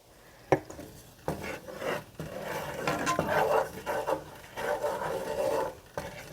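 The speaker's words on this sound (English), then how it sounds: "Give that a little stir." Garlic and white wine are stirred in a pan with a utensil, giving a series of close scraping and clinking strokes against the metal with a light sizzle underneath and irregular sharp knocks.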